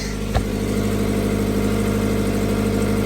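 A steady, loud engine idle from a 2017 Toyota 86 rumbling close by, with a faint click near the start.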